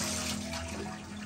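Water poured into a pressure cooker for cooking chana dal, a brief continuous splashing rush with no voices.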